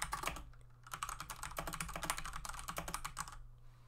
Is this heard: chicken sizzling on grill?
no